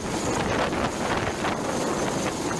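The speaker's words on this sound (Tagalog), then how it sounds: "pinapahanginan ng helicopter ng Chinese Navy sa Sandy Cay 3" Steady, roaring gusts of wind from a hovering Chinese Navy helicopter's rotor downdraft buffet the microphone over Sandy Cay sandbar near Pag-asa Island, a broad rushing noise with no pauses.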